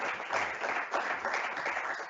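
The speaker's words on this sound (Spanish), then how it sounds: "pues un aplauso aquí para nuestros ponentes" Audience applause for the presenters at the close of a talk on early or active retirement in a lecture hall, a steady dense wash of clapping at moderate level with no speech.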